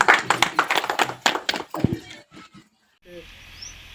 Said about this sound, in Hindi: इनके लिए ताली बजा दीजिए एक बार।